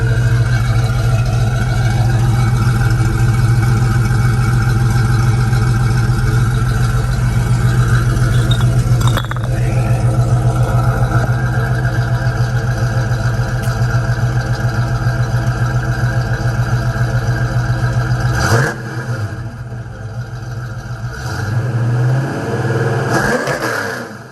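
A Foxbody Mustang V8 idles with a Mac X-pipe exhaust, a loud, steady rumble held close and alone for about eighteen seconds before the note dips and settles back to idle.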